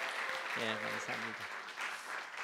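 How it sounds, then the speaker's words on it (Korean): A church congregation claps together during a Sunday worship service, a broad, steady wash of applause. Someone briefly speaks over it partway through. "우리 박수로"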